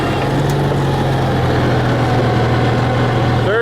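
An M274 Mechanical Mule with no suspension driving in second gear low, its engine a loud, steady close-up drone with a constant low rumble running throughout.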